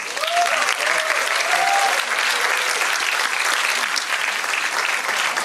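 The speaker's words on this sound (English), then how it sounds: "So a big round of applause for these 2 amazing teams." Loud, sustained audience applause for two school debate teams at a junior debate final, dense clapping from a large crowd throughout.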